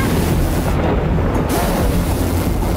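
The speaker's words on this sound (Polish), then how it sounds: "Przepraszam, ale dzisiaj mam okropne grzmoty." Cartoon thunder rumbles from a storm cloud in a children's animated adventure, a loud continuous low roar with hissing noise that fills the whole stretch without a break.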